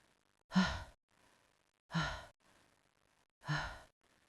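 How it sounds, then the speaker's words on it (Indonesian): Three slow, heavy breaths come at even intervals, each a long drawn-out exhale that rises and fades, close and alone against near silence. "Karena di balik selimut terdengar suara pelan. Seperti napas seseorang."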